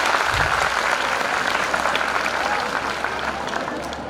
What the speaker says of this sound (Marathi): म्हणून एकदा तुम्ही टाळ्या वाजवून द्या.